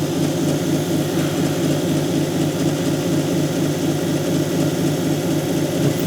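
A lapidary polishing wheel runs on a Brazilian agate cabochon, a loud, steady low motor hum and grinding drone that holds constant throughout with no speech.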